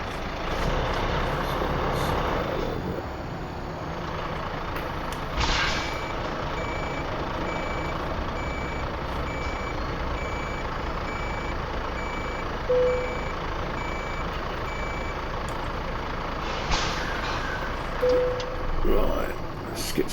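A refrigerated trailer truck in Euro Truck Simulator 2 backs up, its reversing alarm beeping in an even, repeating rhythm over a low, steady engine rumble.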